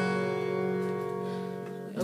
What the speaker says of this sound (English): so my G would sound like this.